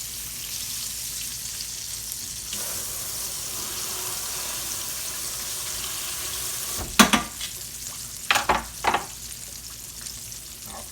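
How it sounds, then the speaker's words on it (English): Thin pieces of buffalo chicken fry in hot oil with a steady, even sizzle throughout. A few short clattering knocks break in near the end, and no one speaks. "I'll fry these other ones off in just a second"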